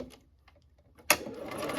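A sewing machine stitching quilt fabric starts abruptly after a quiet pause and runs on as a loud, steady mechanical whir with rapid stitch clatter, close by.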